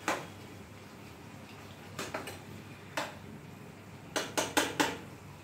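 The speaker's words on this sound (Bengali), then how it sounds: "এবার এর মধ্যে চিকেন মাঞ্চুরিয়ান বলগুলো দিয়ে দিলাম, দিয়ে ভালোভাবে নেড়ে দিচ্ছি।" Metal utensil clanks and scrapes against a wok while chicken Manchurian balls are stirred into gravy over low heat, a few scattered knocks then a quick cluster of four sharp taps near the end, close and fairly quiet.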